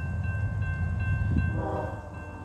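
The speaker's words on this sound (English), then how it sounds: "This is a Norfolk Southern." A heavy Norfolk Southern intermodal freight train rumbles past close by at a road crossing, a deep steady roar with a faint high tone running through it, then easing slightly near the end.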